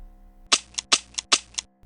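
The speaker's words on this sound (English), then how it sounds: "The gun sounded." Three sharp, loud gunshots fire in quick succession, each followed by a brief echoing tail, standing alone against a quiet background.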